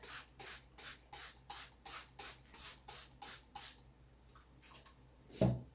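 A spray bottle hisses in a run of about ten quick, evenly spaced squirts onto potting soil around seedlings, then a couple of softer sprays and a low thump, close by.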